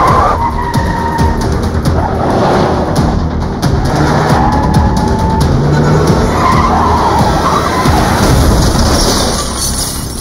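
Car chase with a gray Range Rover skidding, a loud continuous rush of engine roar and tire noise with skidding sweeps throughout, no talk.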